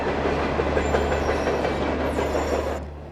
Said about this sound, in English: the train continues to speed in excess of 75 miles an hour, heading to Stanton